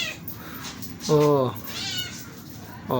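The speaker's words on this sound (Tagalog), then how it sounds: "Napaka-ate talaga ng pusa na yan." A cat gives one clear, drawn-out meow close by, with people talking around it and outdoor background noise.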